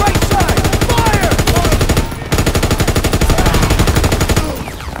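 Call of Duty: WW2 battle with MG-42 machine gun fire: a loud, very rapid continuous burst rattles for about two seconds, pauses briefly, then fires again at the same fast rate, with shouted voices mixed in.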